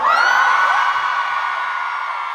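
A crowd lets out a loud, sustained scream and whoop that fills the whole clip, fading slightly toward the end.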